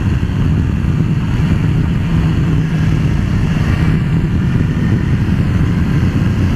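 A 2018 Kawasaki H2 SX SE motorcycle rides along with a loud, steady engine drone mixed with continuous wind and road rush, recorded on board without speech.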